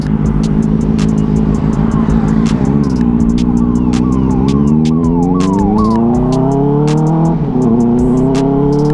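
A wailing ambulance siren sweeps up and down over a loud, steady Benelli 600i motorcycle engine drone in Hyderabad traffic, with sharp clicking ticks throughout, close by.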